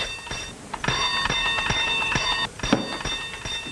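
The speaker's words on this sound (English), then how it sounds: "Oh, stop ringing that bell." A bell rings insistently indoors, with a quick run of bright, clanging strokes that keep the metallic tone sustained between hits. It is fairly close and carries on for several seconds without pause.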